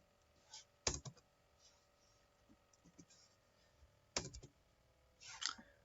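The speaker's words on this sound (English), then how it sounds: "We type Vlookup." Keystrokes on a computer keyboard while entering a spreadsheet formula, a few sharp isolated clicks and soft taps spread across a quiet room, near and faint.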